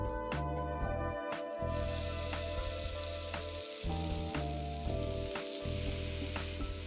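Pancake batter sizzling on a hot skillet: a loud, steady crackling fry close by, continuous throughout, with no one speaking.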